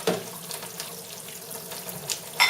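Tap water runs steadily into a sink while a child scrubs at home, a soft continuous splashing hiss with a few louder splashes near the end, and no voices.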